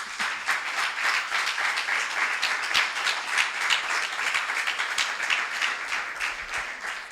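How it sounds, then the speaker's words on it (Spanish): A church congregation applauds for the Lord, steady dense clapping from many hands filling the room, sustained and lively throughout. "¿Le damos un aplauso al Señor?"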